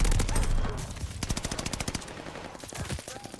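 Repeated bursts of automatic gunfire from the Automaton weapon in Call of Duty: Vanguard, loud and close, fire in quick rattling volleys with short gaps between them.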